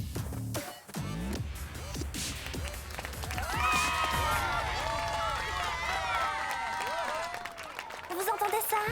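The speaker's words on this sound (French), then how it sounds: "Vous entendez ça? La foule nous adore." A crowd cheers and applauds for a dance group at a dance battle, a dense sustained roar with excited shouts and whistles rising midway, close and loud, with voices talking through it.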